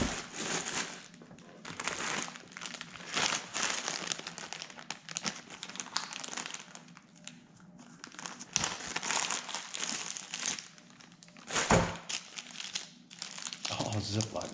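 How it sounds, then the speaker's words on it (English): Ziploc plastic bags are handled and crinkled in a bus-to-RV conversion workspace, giving repeated bursts of crackly rustling across the whole stretch, close and fairly quiet. "Oh, Ziploc bags. Love them."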